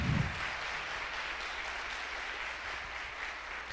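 A church congregation applauds in a steady, even wash of clapping, heard from a distance and fairly faint, with no talk over it.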